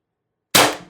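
A single sharp shot from an Umarex TR50 air rifle tethered to a 48 cubic inch tank with an adjustable regulator, a loud close crack after silence that decays quickly with a short ringing tail.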